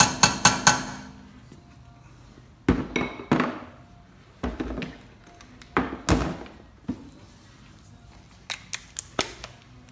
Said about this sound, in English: a special tool that you strike with a hammer, similar to a chisel, and it helps straighten out the edge of the axle nut